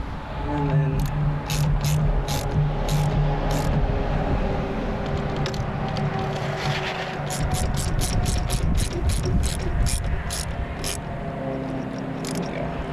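Ratchet tightening bolts on a 2005 Ford Sport Trac during harmonic balancer work, heard as repeated bursts of close, loud clicking over steady broadband noise, with a quieter pause midway before a faster run of clicks.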